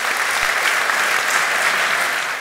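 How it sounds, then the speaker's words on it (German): A hall audience at a German plumbing and heating trade association's annual meeting applauds certified supplier partners, a loud, dense and continuous wave of clapping that never lets up. "Großen Applaus!"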